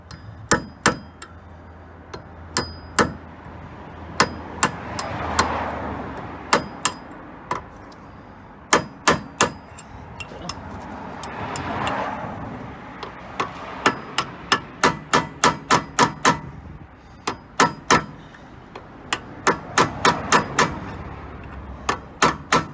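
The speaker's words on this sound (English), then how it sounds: "See if I can use a punch to get these across." A steel punch is struck with a hammer against the ABS reluctor ring of a BMW E83 X3. Bright, ringing metallic blows land close by, alone and in uneven bursts of quick strikes, with short pauses between the bursts.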